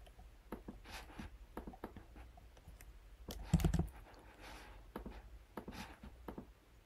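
An API token being typed on a computer keyboard, with scattered soft key clicks in uneven bursts and one heavier keystroke midway, quiet and close with no voices.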